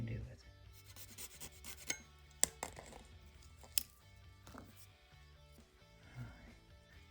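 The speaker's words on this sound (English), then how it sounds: "Just cut the vehicle out of here." A 1/64 diecast limo body is cut and trimmed by hand, giving quiet, close rubbing and rasping strokes with a few sharp clicks between them, and a voice speaks briefly.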